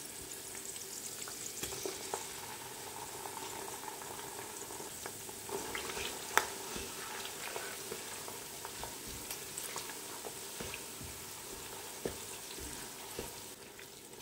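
Tinned tomatoes frying in a pot for a Nigerian assorted meat stew with rosemary and bay leaves, a steady soft sizzle throughout with occasional faint stirring clicks, no talking.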